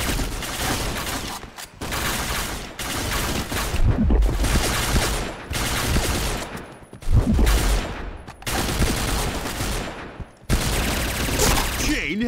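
Rapid gunfire in the shooting game Point Blank, loud bursts of automatic fire in repeated volleys separated by short gaps, with game announcer calls heard over the shots.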